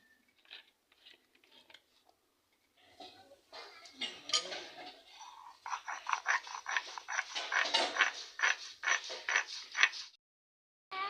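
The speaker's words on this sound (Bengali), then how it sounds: "এখন সরিষা বেটে নেব" Mustard seeds, washed beforehand, ground by hand on a stone, giving close rhythmic scraping and rubbing strokes that build from sparse scrapes into steady repeated grinding passes.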